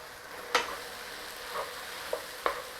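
Beef stir-fries in a hot pan with a soft continuous sizzle, broken by a few sharp scrapes and clinks of a utensil against the pan, fairly faint with no talking.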